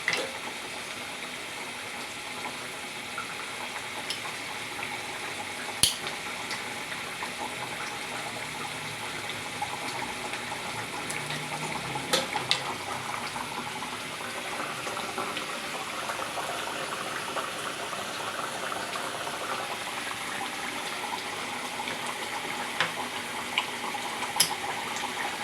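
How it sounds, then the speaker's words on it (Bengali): Slit green chillies frying in a pan give a steady, even sizzle with a few faint clicks of utensils, close and moderately quiet throughout. "দিয়ে দিলাম 2-3টে চেরা কাঁচা লঙ্কা"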